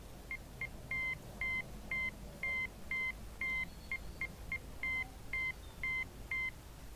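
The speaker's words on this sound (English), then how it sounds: "pick up the phone and listen for your Morse code." Morse code beeps heard over a telephone in a video game, a series of short and longer tones in an uneven rhythm, clear and moderately loud above a faint background hum.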